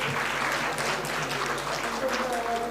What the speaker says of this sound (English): a huge round of applause for our performers